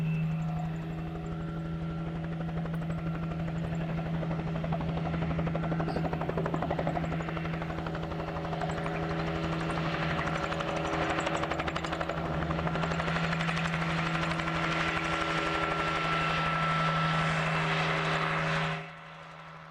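A helicopter chasing wild horses during the 2010 BLM Calico Complex roundup drones steadily overhead with a throbbing rotor and engine whine, loud and continuous, then cuts off abruptly near the end.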